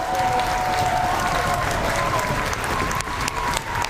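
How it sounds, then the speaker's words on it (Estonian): An audience at a school dance event applauds continuously and loudly, a dense wash of clapping that holds steady throughout with crowd noise mixed in. "Aplaus Laurale"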